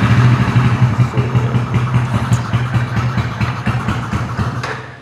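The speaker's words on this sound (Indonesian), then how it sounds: "Kontak on, nyalain cuk. Switch on, lalu starter." A motorcycle engine turns over on the starter and catches, settling into a steady, loud, close idle with a low rhythmic throb and light mechanical clatter for several seconds.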